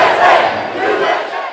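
High school student fan section chanting at a school game, a dense loud roar of many young voices shouting together, sustained and close throughout the brief stretch.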